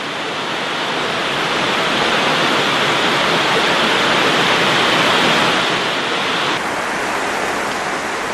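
Virgin River rushing through The Subway in Zion Canyon: a loud, continuous broadband roar of flowing water, steady and close, swelling slightly in the middle and easing a little toward the end.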